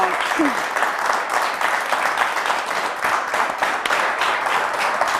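A studio audience at a TV quiz show with two Pro Loco teams from Spilimbergo and Dignano applauds loudly and continuously, dense clapping with voices rising in the crowd.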